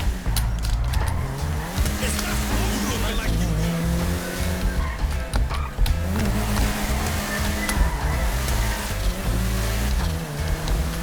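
A modded BMW M3 E46 drifts in GTA 5, its engine roaring and revving in steady layered tones while tires squeal and skid continuously, with a voice talking over the action.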